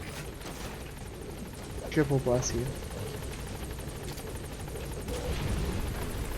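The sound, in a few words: support helicopter arriving, from a video game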